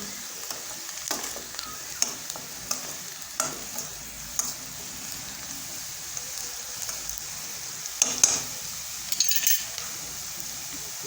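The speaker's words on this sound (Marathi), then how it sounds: "आता आपण हळदी पावडर आणि लाल तिखट टाकून घेतलेला आहे आता हे मिक्स करून घेऊ" Fried onion in a pan is stirred after turmeric and red chili powder go in for a ghol leaf zunka. A steady background sizzle carries repeated scraping stir strokes, with a few sharper clinks of the spoon. There is no talking.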